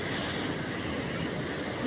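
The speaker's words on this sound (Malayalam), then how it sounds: "കരയോടടുക്കുന്ന കടൽ തിരകളെ നോക്കൂ." Sea waves surging against a rocky shore below a seaside temple, a continuous close wash of surf with wind noise over the microphone and a louder swell rising at the very end.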